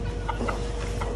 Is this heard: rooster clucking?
yes